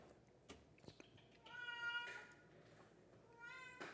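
A cat meows twice, first a longer harmonic meow and then a shorter one near the end, both fairly close and clear over a quiet room.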